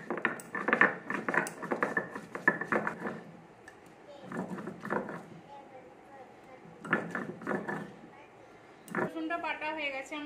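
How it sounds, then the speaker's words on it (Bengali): Ginger and garlic ground together by hand in a home kitchen, a series of rhythmic scraping and knocking strokes in bursts with pauses, close and fairly soft, with a voice talking over parts of it. "আদা রসুনটা একসঙ্গে বেটে নিচ্ছি।"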